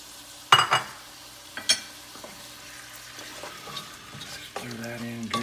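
Canned diced tomatoes stirred into a frying pan for aloo gobi, with a few sharp spoon knocks and scrapes over a low sizzle, close and moderately loud.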